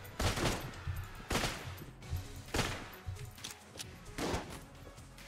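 Repeated bursts of gunfire in the Enter the Gungeon video game, loud volleys recurring about every second or so over a busy, layered backdrop of game noise.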